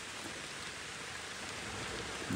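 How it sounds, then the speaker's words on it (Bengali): Rain falling steadily along a roadside in Purulia during a motorcycle trip, a soft, even hiss of drops with no talking. "এ দেখো বৃষ্টি শুরু হয়ে গেছে"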